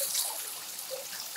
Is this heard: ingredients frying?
no